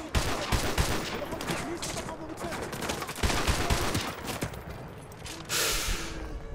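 Dense gunfire in Modern Warfare 2 Remastered, with rapid volleys and sharp bursts crackling almost nonstop, loud and close, and a hissing swell near the end.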